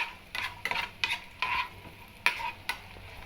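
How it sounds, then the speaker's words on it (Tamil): Cashews and raisins roasting in a pan for pumpkin payasam sizzle softly while a spoon stirs and scrapes in about seven distinct strokes, close and alone without talk. "சேர்த்துட்டு நல்லா மிக்ஸ் பண்ணி நல்லா வறுத்தெடுக்கலாம்"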